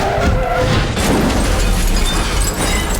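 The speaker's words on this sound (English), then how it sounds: "We hit him with a bus!" A bus slamming into a limo in Saints Row 2, a loud crunching impact with boom-like debris and rumble that carries on without talk.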